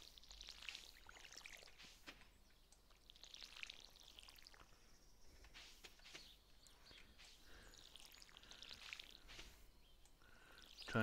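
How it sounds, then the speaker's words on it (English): Watering plants with a watering can in a farming video game while growing parsnips; soft trickling, splashing water sounds recur in gentle bursts at moderate volume, with faint chirpy game ambience underneath and no talk. "Try to water the plants."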